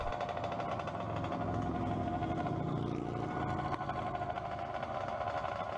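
Dirt bikes warm up while riding onto a 45 mph road near Edmonton, Alberta, their engines holding a steady, buzzing drone throughout.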